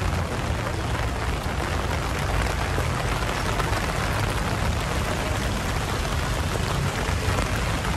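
Heavy rain pours down in Antananarivo, Madagascar, a dense, unbroken hiss of drops striking surfaces, loud and close, with no voices.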